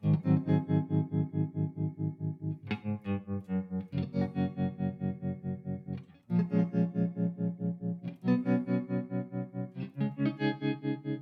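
A Brookfield tube amplifier runs with a heavy tremolo effect, pulsing a sustained, distorted tone in a steady, fast wobble of rising and falling volume, loud and close with no talk.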